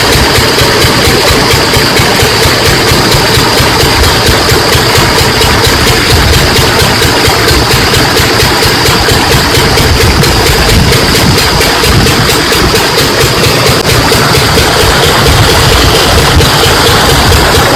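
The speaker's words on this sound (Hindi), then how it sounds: "यहाँ पर इंजन स्टार्ट हो गया है" A diesel engine driving an irrigation water pump runs steadily at idle, a loud, continuous mechanical drone with constant vibration throughout, no voices over it.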